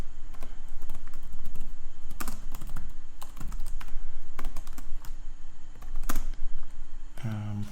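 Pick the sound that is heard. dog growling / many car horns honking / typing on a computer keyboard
typing on a computer keyboard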